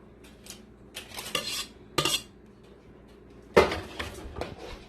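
Okra being tipped into a red palm-oil sauce and stirred in a pot, with sharp clinks and scrapes of a spoon against the metal pot at irregular moments between quiet gaps.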